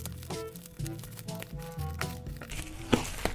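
Packaging of a Signo KB-781 MAGUSTA gaming keyboard crinkles and rustles as it is unwrapped, giving soft irregular crackles at close range over quiet background music, with one sharper rustle near the end.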